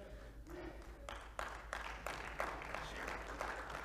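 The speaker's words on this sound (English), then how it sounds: "Oh, you go ahead and clap." Church congregation applauding during a sermon, a sustained wash of many hands clapping that builds after a quiet start and carries on steadily at moderate distance in a reverberant hall.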